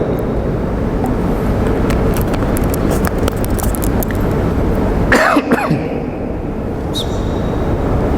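A man coughs with a couple of harsh bursts near the middle, over a loud continuous rumbling background noise.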